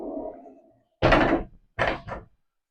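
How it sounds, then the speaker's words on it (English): A sliding barn-style closet door in a tiny house on wheels, running along its track in a few loud, close bursts of rolling and thudding after a faint murmur at the start. "Sliding barn style doors flanking your chest of drawers in the middle."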